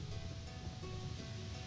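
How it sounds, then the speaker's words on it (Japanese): A small waterfall beside a road pours steadily, a continuous soft rushing wash of water heard faintly at a distance with no voices. "ここちょっと滝が流れてますね"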